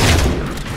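A single loud, booming sniper rifle shot from Halo 4 hits hard at the start and then rolls off into a brief rumbling tail.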